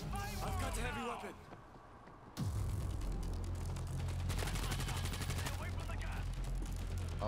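Rapid heavy-weapon gunfire rattles in a World War Z zombie shooter, continuous bursts after a short lull, with voices talking over the shooting.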